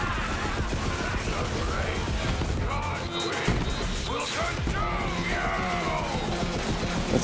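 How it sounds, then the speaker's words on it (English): Continuous chaotic gunfire and crashing impacts from Borderlands 3 combat, dense overlapping shots and smashes filling the whole stretch, with a voice briefly heard amid the noise. "Let's keep firing away at him."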